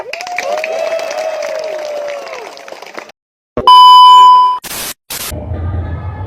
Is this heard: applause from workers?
yes